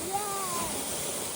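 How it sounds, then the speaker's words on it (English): A big waterfall roars as a steady, loud broadband rush of falling water, with a voice briefly heard over it. "A big waterfall."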